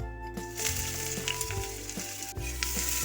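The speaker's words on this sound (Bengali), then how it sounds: "পেঁয়াজটা একটু ভাজা ভাজা হোক" Onion sizzling and frying in oil in a pan while a savory flattened-rice tiffin is prepared, a steady close crackling hiss with a few soft stirring clicks, no talking.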